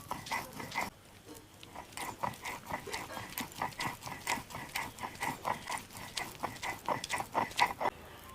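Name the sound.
grinding ridge gourd peel on a stone slab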